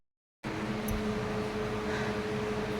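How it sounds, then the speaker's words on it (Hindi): An air cooler and a ceiling fan run together in a home, making a steady, close whooshing drone with a faint constant hum underneath, unbroken for the whole stretch with no talking. "अभी थोड़ा कूलर और पंखे की हवा मतलब आवाज़ आ रही होगी, उसकी हवा आने की"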